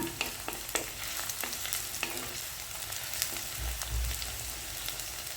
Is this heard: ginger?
yes